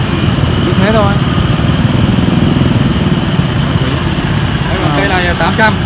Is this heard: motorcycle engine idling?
yes